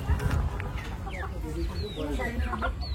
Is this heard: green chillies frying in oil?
no